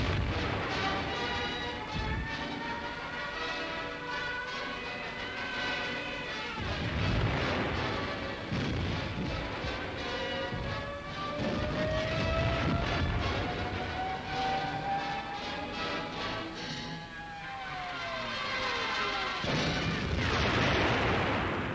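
Ground-attack aircraft bombing a city building block in 1944 wartime newsreel footage, a dense continuous roar of explosions and rumbling blasts with swooping aircraft engine tones running throughout, loud and unbroken.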